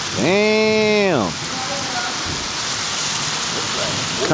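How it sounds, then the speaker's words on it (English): Heavy rain pours down in Jamaica with a constant loud hiss of drops on surfaces, opening with a short rising-and-falling voice or horn-like tone before the downpour carries on alone. "Look at the rain."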